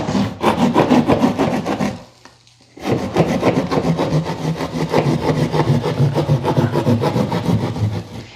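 A hand saw cutting through drywall to make a hole for an in-wall speaker: rapid, rhythmic rasping strokes close by, a brief pause, then steady sawing resumes to the end.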